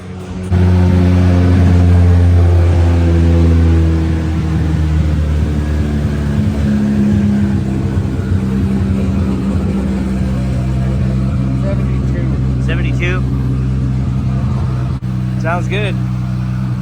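A race car engine fires up and holds a steady, loud idle with rising revs, close to the microphone, running continuously throughout while a few voices talk over it.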